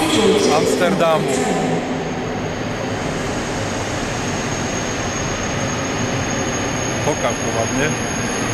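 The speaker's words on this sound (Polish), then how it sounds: "Właśnie wjeżdża pociąg TGV do" A TGV high-speed train rumbles into Antwerp Central station with a steady roar and a faint high whine, and a person talks over the noise.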